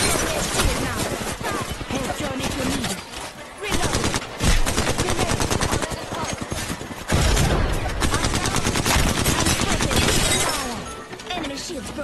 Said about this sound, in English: How can you not love shots like this?